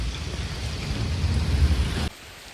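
Loud, dense rain falls on trees, roaring steadily with a deep rumble beneath it, then cuts off abruptly near the end, leaving quieter background.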